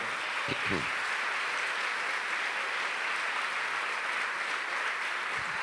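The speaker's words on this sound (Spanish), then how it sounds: "denle un aplauso al Señor" Steady applause from a church congregation at a regional retreat in Mexico, a dense even wash of clapping filling the whole stretch at moderate level, with a brief voice near the start.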